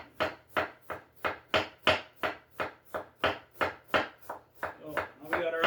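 Onions are chopped with a knife on a board in a steady run of about fifteen crisp, close chops at an even quick rhythm, speeding into a busier flurry at the end.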